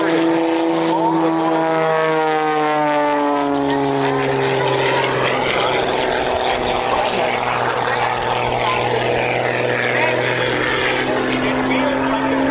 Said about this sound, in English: He took the airplane with rolls, outside snap rolls